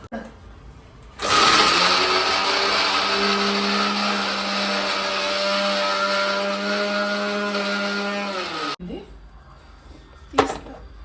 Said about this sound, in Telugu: దీన్ని కూడా మిక్సీ పడతాం.